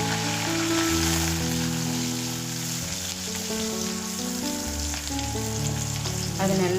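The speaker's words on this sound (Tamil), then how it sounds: "அது நல்லா வதங்கி வரட்டும்." Two handfuls of curry leaves crackle and sizzle in hot oil with cinnamon in a pan, a constant close frying hiss under sustained background music, with no talk.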